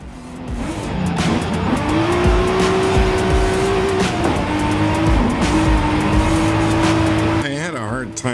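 A Nissan Skyline races in Forza Horizon 5, its loud engine howling steadily through the revs, with tires squealing through corners and someone talking over the sustained roar.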